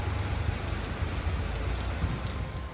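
Heavy storm rain in Turkey pours down steadily in a dense, even hiss of drops striking surfaces, close and continuous with no pauses.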